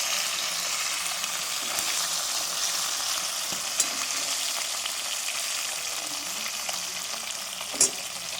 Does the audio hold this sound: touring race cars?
no